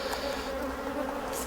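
Honeybees buzzing at an open beehive as a super is lowered, a dense, steady drone of many bees close by with no talk.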